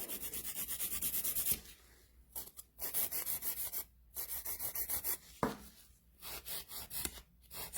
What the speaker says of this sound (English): our medium coarse file and I'm just going to do some shaping prior to our product application